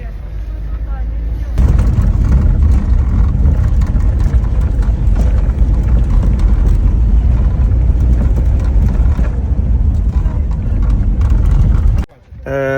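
A car carrying evacuees drives away, a loud steady engine and road rumble close inside the vehicle that runs nearly throughout before dropping off at the end, with some voices underneath.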